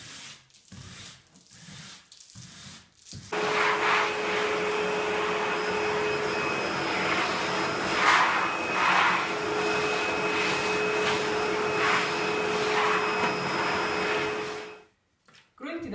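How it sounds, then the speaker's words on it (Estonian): A vacuum cleaner sucks loose sand and dust off a wall, starting after a few brief noises, then droning loud and steady with rising and falling scraping textures as the nozzle moves, before switching off near the end. "Selleks võib kasutada näiteks harja või siis ka tolmuimeja."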